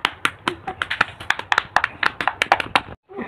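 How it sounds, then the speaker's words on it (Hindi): A rapid run of sharp hand claps, close and loud, continues in an uneven rhythm for nearly three seconds, then stops briefly before a faint noise follows. "ताली बज गई।"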